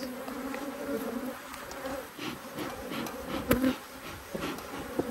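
Italian honey bees swarm and buzz at an Australian backyard hive, a dense steady drone of many wings close by with occasional louder passes of single bees near the ear.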